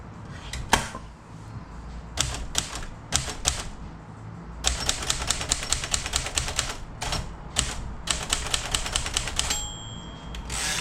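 1943 Royal Quiet De Luxe typewriter being typed on at close range: bursts of sharp rapid key strikes in uneven runs, with a clear bell ding near the end followed by the carriage ratchet.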